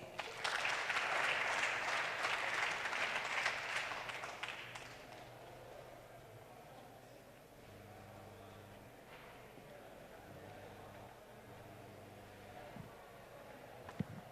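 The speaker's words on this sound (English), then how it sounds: "please welcome with applause" Applause from an audience fills the first few seconds, then fades away, leaving quiet room noise.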